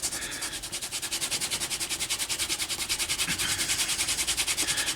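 A leather wallet edge is rubbed hard with a piece of canvas, giving a fast, steady rhythmic scraping that repeats evenly and stays loud and close throughout.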